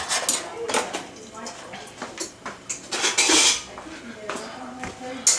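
Kitchen utensils clatter as a slotted spoon is fetched while making homemade ricotta cheese, a string of sharp metallic clinks and knocks of cutlery and pans, with a voice talking in between.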